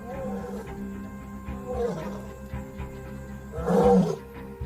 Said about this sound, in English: The roar can be heard over 8 kilometers away.